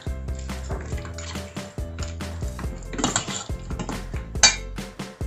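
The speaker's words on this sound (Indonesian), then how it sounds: "Kita aduk rata." Beef coated with cornstarch stirred in a pan, giving repeated close metal clinks and scrapes of a utensil against the pan with soft sizzling underneath, in an irregular steady rhythm.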